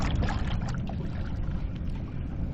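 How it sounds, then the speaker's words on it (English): Paddles dip and stroke through the water as a boat crosses toward an island in an archipelago, a steady close splashing and trickling wash alongside wind-like noise. "We're paddling over to the Sewall Island here."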